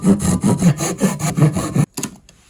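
A hand saw cuts a trench into wood, about eight rhythmic rasping back-and-forth strokes, close and loud, then stopping abruptly.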